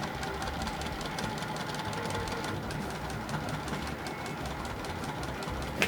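A sewing machine stitches a row of a puff quilt, running with a fast, continuous mechanical whir and rhythmic needle clatter, close and steady from start to finish.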